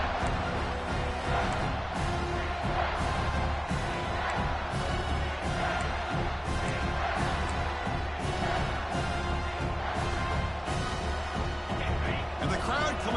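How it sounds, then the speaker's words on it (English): Football stadium crowd roaring steadily as it rallies behind the defense in the red zone, a dense continuous wall of cheering with scattered claps and shouts throughout. "the crowd coming to life here, trying to help this defense down in the red zone"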